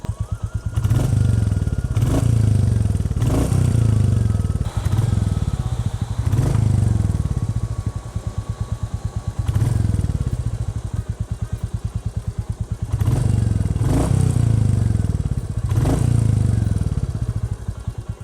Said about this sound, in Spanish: Escucha esta maravilla de motor 350 monocilíndrico.